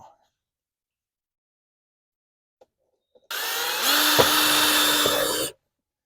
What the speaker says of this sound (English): there will be 2 layers that you have to drill through on these